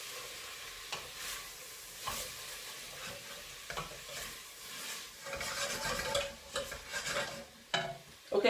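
Carrots with salt and black pepper stirred in a pan for carrot and coriander soup: a soft sizzle under repeated scraping strokes of a utensil, close and fairly quiet, with no talking.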